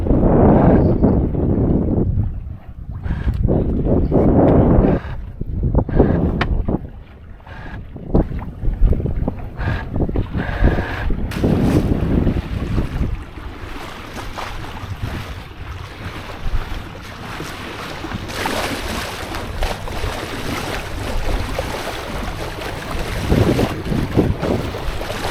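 Strong tropical-storm wind roars over a sailboat beating close-hauled, with steady buffeting gusts on the microphone and the wash of waves and hull under way, loud and continuous throughout.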